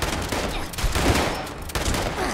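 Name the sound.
shotgun firing in the video game Fallout 76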